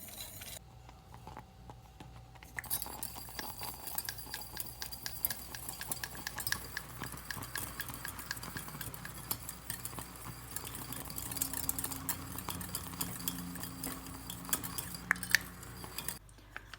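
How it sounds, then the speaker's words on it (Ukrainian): Quiet, steady scraping and light clinking of a utensil stirring a buttery cake mixture in a pot over heat, continuous and close, with faint background noise. "Додала масло, поставила на вогонь і тепер постійно помішую."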